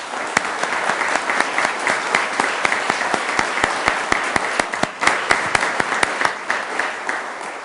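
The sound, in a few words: audience applause for the councilors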